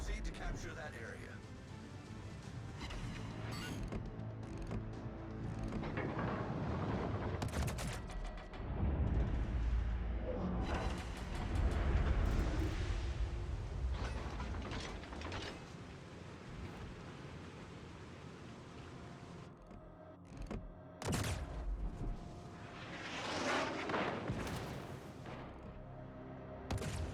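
Warship guns boom repeatedly in World of Warships Legends, with heavy blasts and rumbling bursts scattered across a busy battle mix, while a voice speaks over the action.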